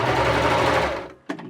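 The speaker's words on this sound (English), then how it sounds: "But it works just as well on any of our overlock sergers." An overlock serger stitching around the edge of a holiday tree napkin, a loud steady motor whir for about a second that stops abruptly, followed by a brief clunk.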